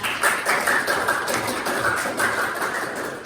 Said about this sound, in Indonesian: Dari tepuk tangan buat temannya